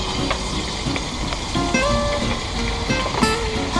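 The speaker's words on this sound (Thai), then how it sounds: "เราก็ใช้น้ำมัน ของที่ทอดปลาครับ เดี๋ยวไว้นิดหน่อย แล้วก็ใส่น้ำปลาลงไป" Fish sauce poured into hot oil left over from frying fish, crackling and sizzling steadily at close range, with a few brief clinks of utensils and no talking.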